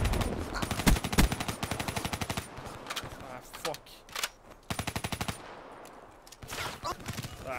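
Automatic weapon fire in the video game Call of Duty Black Ops 3, played with a Steam Controller: several rapid bursts of machine gun shots, loud and close, separated by short pauses.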